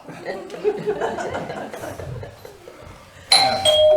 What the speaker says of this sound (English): Who's that doorbell this time of night?